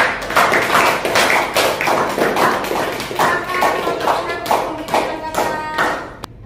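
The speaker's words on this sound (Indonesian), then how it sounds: "Berikan tepuk tangan buat kelompok" A classroom group claps for a presenting team, the claps coming in uneven, fairly close bursts over about six seconds, not very dense, like a small group rather than a crowd.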